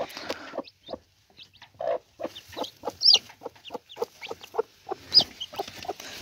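A Gurk breed broody hen gives short, irregular clucks close by with her freshly hatched chicks, the calls spaced out with brief pauses and occasional higher chirps.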